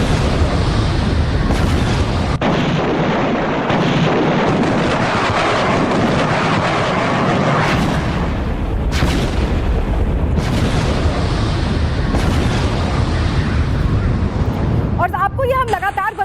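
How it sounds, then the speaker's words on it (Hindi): A massive explosion in Zanjan city, Iran, rendered as a sustained, loud, rumbling roar that fills the whole stretch with dense low booming and no clear breaks. "जहां पर भीषण धमाका हुआ है।"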